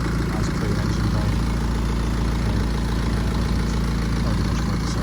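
A BMW 520d M Sport Touring diesel engine idles with the bonnet open, giving a steady, close, low rumble that holds evenly for the whole stretch without a break.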